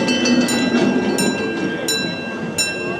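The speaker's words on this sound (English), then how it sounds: "So as far as Mack-powered mine trains goes, Alpen Express was really good." Mack mine train roller coaster at Europa-Park, the Alpen Express, rumbles along its track with a steady rolling roar and intermittent higher clicks and rattles, heard from nearby without talk.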